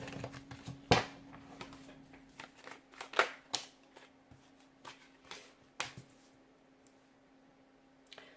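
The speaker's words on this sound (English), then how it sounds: "Those two cards just came flying out before I even had a chance to shuffle." Tarot cards are handled and shuffled close by, with sparse crisp snaps and riffling flicks at irregular intervals over a quiet background hum.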